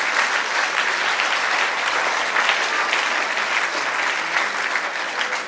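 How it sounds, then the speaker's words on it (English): Sustained, steady clapping from a church congregation during an international prayer and intercession gathering, a dense, even wash of many hands that carries on without a break and has no voices over it. "We clap in agreement with God."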